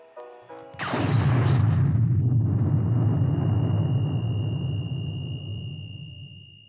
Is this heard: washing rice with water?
no